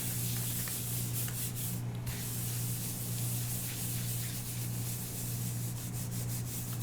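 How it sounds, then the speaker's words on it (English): Paper is pressed and rubbed onto a gel printing plate, working into the stencil cracks to lift ink; a soft, steady close scratchy rubbing under a low hum. "I'm just pressing this into all the cracks of the stencil so I can lift out the ink"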